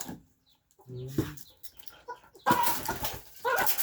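Chickens cluck and squawk nearby in short irregular bursts, with rustling and scratching noises mixed in.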